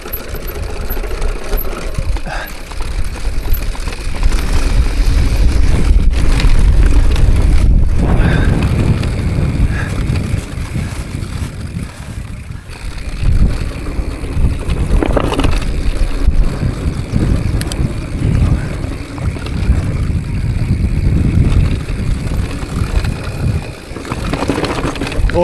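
Strong gusting wind on a steep hillside at Blackstone Edge batters the microphone, loud low rumbling buffets that surge and ease over the whole stretch, with brief quieter lulls between gusts.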